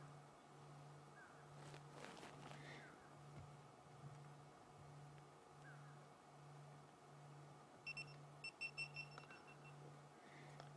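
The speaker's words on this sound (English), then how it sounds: "So have you heard that little beep, beep, beep, beep, beep?" A quick run of faint, high electronic beeps sounds near the end over a steady low hum and background noise.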